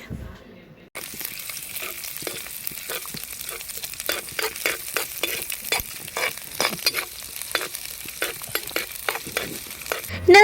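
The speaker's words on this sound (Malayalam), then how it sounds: "ഇതിലേക്ക് ചതച്ച് വെച്ച ഇഞ്ചിയും വെളുത്തുള്ളിയും ഇങ്ങനെ ഇട്ട് കൊടുത്തു എന്നിട്ട് ജസ്റ്റ് ഒന്ന് വഴറ്റിയെടുക്കണേ" Crushed ginger and garlic sautéing in coconut oil in a clay pot over an outdoor wood-fire stove, with a steady loud sizzle and repeated rhythmic scrapes of a stirring spoon throughout.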